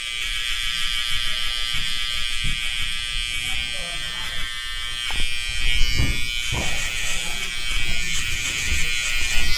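Electric hair trimmers buzz steadily up close while cutting a drop fade at a barbershop, with a bright whine that dips and swells as the blade moves through the hair over low background noise.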